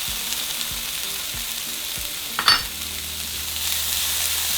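Tomatoes and jalapenos frying in a pan, a steady close sizzle with a brief louder crackling burst near the middle as food is stirred or added.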